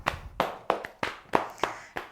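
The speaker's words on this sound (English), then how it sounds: "We're going to clap our hands together." Hands clap together during a yoga session, about seven sharp, close claps in a steady rhythm, each fading quickly with no talking.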